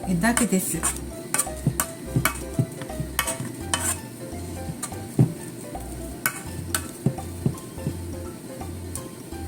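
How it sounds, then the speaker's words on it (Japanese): A potato galette sizzles steadily in a pan over low heat, punctuated by frequent sharp clicks and scraping of utensils against the pan, close and fairly quiet. "あとは弱火で焼くだけです"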